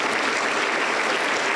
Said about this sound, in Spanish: Un fuerte aplauso para nuestro Creador.